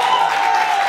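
Studio audience applauding on a hot-sauce tasting talk show, a dense steady wash of many hands clapping at moderate volume, continuous through the brief moment with no talk over it.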